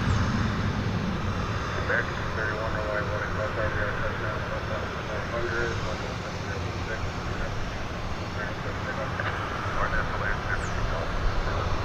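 An American Airlines Boeing 737-800 on Flight 1331 to Santa Ana takes off from a DFW runway, a steady broad engine roar holding at a constant level throughout with a faint voice talking underneath.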